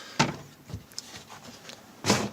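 Cabinet doors in a converted camper van closing, two distinct soft thumps about two seconds apart, close by, with faint rattling knocks between them.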